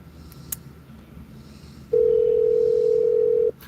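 A steady telephone dial tone sounds alone for about a second and a half on a call line, loud and unbroken after a quiet stretch of faint room noise.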